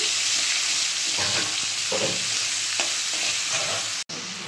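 Finely chopped onions fry steadily in a hot pan, a loud, dense sizzle with occasional stirring scrapes and a brief dropout near the end.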